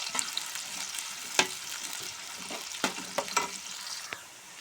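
Onions and green chillies frying in hot oil while being stirred, with a soft constant sizzle broken by several sharp scrapes and clinks of the spoon against the pan, close by.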